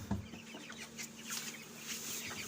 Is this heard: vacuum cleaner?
no